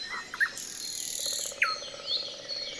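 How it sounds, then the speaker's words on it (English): A woodpecker drums in a forest ambience soundset, heard as a faint, evenly spaced tapping in the distance beneath nearby bird chirps and a constant insect hum. "sometimes this woodpecker sound will happen a long way in the distance"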